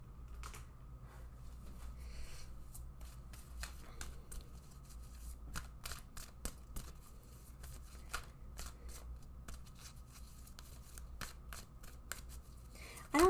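Playing cards are handled and shuffled in repeated crisp riffles and flicks over a quiet room hum, with no talking.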